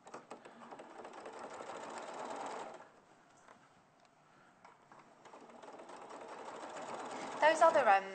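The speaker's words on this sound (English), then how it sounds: "now this time we're going to machine stitch it" A sewing machine stitches around the curved edge of a shirt. Its steady, even whirr runs for a few seconds, stops, and starts again, with a presenter talking over it.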